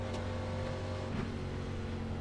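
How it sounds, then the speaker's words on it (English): NASCAR Cup race car engines in iRacing drone steadily with a tonal hum and faint shifting revs, a continuous layered engine sound with no voices over it. "Damn, I can hear the engines right now."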